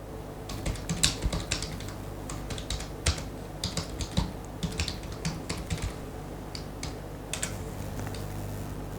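Someone types a search query on a computer keyboard, a close run of quick, uneven key clicks in bursts with brief pauses, and no talking.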